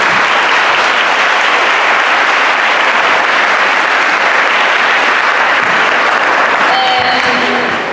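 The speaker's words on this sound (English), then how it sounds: "So can you please give a big round of applause for our panelists?" A crowd at a Day of the Seafarer event in Durban gives its panelists a big round of applause, loud, dense and continuous clapping that fills the space and fades slightly at the end.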